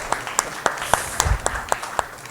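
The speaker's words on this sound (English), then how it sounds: "let's give him a round of applause" A small audience at a talk session claps in a brief, evenly paced round of applause, the individual claps sharp and distinct rather than a dense roar.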